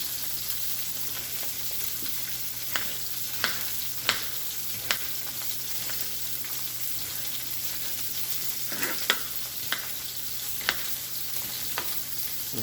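Omelette with onion frying in a pan, a steady close sizzle running throughout, punctuated by several sharp clicks and scrapes as it is stirred.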